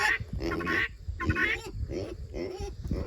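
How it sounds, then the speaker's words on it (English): Several loud, harsh honking guinea hen calls come in bursts with short gaps, nasal and close. "I cannot believe how loud those guinea hens have gotten."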